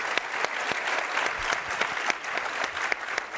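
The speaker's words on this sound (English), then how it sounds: "Let's give them a round of applause." Audience applause at a leadership event, a dense steady patter of many hands clapping together for several seconds, fairly close and even in loudness, with no voices over it.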